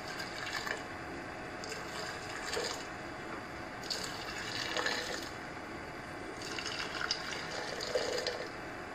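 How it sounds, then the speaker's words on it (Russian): Boiling water poured into a jar while preparing baked hot peppers for winter preserving, a faint, steady trickling fill with occasional clinks, quiet and close. "наливаем немного воды."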